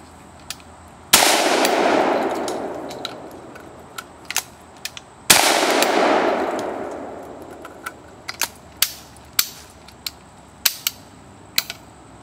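A New England Arms 12 gauge shotgun fires two loud, booming shots several seconds apart, each followed by a long decaying echo, then a series of sharp mechanical clicks and clacks from handling the action.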